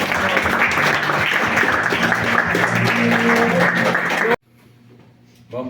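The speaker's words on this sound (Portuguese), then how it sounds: "Aplauda o Senhor Jesus." Congregation clapping in church, a dense sustained applause that fills the space loudly for about four seconds, then cuts off abruptly to a quiet room tone before a brief return of sound at the end.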